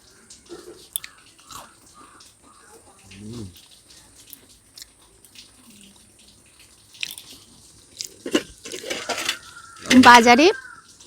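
Crispy homemade kathi gaja, a fried Bengali flour sweet, crunched and chewed in a few short bursts, with a loud crunchy burst near the end and some dish clatter in between.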